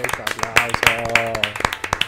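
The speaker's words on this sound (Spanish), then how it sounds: "Un aplauso por esta increíble serie" A few people clap in a quick, uneven rhythm of sharp hand claps, close by, with a voice speaking over it.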